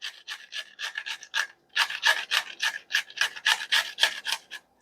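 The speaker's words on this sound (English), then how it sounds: "So after that, we're going to be grating the okra" Okra being grated by hand produces rapid rhythmic rasping strokes in quick bursts with a brief pause partway through, close and crisp.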